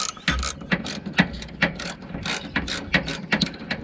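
A spanner works a steering damper bush nut on a 6x6 Perentie, giving a series of sharp metallic ratcheting clicks in an uneven rhythm, loud and close, with no voices.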